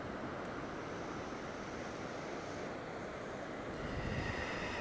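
Ocean surf washes steadily onto a beach, a constant broad rushing wash with some wind, fairly faint and with no voices.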